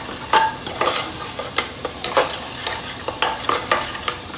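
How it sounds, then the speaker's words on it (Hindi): Kashmiri red chili stir-fried in a hot pan, a steady close sizzle with repeated scraping strokes of a spatula against the metal. "थोड़ी सी कश्मीरी लाल मिर्च भूल गई थी, वो घेर देती हूँ कलर के लिए। 1 सेकंड के लिए और इसे भून लूँगी।"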